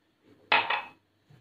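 A whisk or spoon beats eggs and sugar in a bowl to make almond feqqas cookies for Eid. It makes one short, bright scraping clatter, close by and alone.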